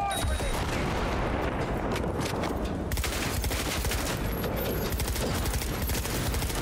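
Rapid, sustained SMG gunfire in the Cyberpunk 2077 video game, loud and dense bursts crackling almost nonstop from start to finish with heavy combat noise layered beneath.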